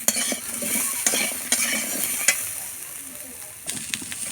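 Chopped tomato goes into stalk curry frying in a pan, with a spoon stirring and scraping through a steady soft sizzle and occasional clinks of the utensil against the pan.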